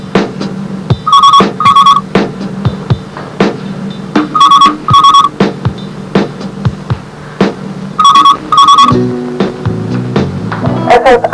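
Ringback tone of an outgoing telephone call, loud paired rings repeating three times at steady intervals over a low background of music and room sound.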